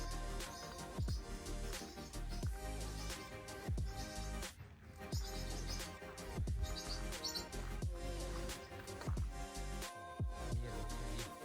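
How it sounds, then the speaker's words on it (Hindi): Bird calls at a bird park near Groß-Rohrheim, Germany, where a parrot is kept: dense chirps and tweets ring out continuously over a busy outdoor backdrop with steady layered sound, no voices. "यहाँ पर भी एक तोता है।"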